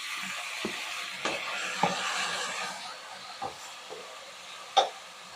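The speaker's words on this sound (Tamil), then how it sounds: "மஞ்சள் போட்ட உடனே நம்ம தக்காளியை சேர்த்துக்கிடுவோம்." Tomatoes sauté in a pan after turmeric goes in for a Karaikudi-style vegetarian fish curry, giving a soft hiss with a few sharp scrapes and clinks of a stirring spoon scattered through.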